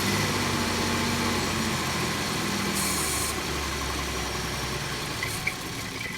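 A 2008 Chevy Equinox with a start-but-won't-run fault has its engine turned over, giving a steady low mechanical churn and hum that carries throughout with no voices.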